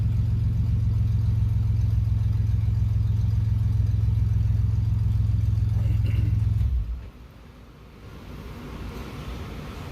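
Silver Ford Ranger pickup running a DynoJet dyno pull: a loud, steady engine drone holds for about seven seconds, then drops abruptly as the throttle closes and settles into a quieter idle with faint clatter.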